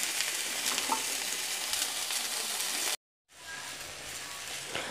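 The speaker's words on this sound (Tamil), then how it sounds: "முட்டைக்கோஸை சேர்த்து நல்லா வதக்கிட்டு அதுக்கப்புறம் புளி உப்பை சேர்க்கணும்." Cabbage sautéing in a pan for a cabbage chutney gives a steady, dense sizzle that cuts out briefly near the middle, then picks back up just as strongly.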